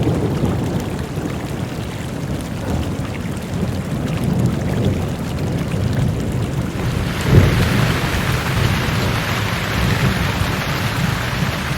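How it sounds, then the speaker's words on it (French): Steady, loud rain pours down in a forest, water streaming and trickling over impermeable rock, a dense continuous wash of hiss that grows brighter and heavier partway through. "L'eau qui tombe du ciel coule et ruisselle sur cette roche imperméable."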